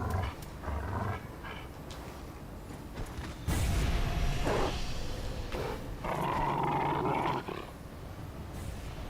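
Enemy creature in Dark Souls 3 letting out deep growls and roars in bursts, loud and close over game ambience.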